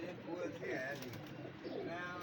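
Pigeons at a bird fair coo low and steadily beneath close, continuous talk from people nearby.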